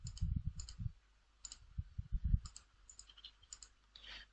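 Mouse clicks in architectural drawing software, a scattered series of light, close clicks with pauses between, alone with no talk.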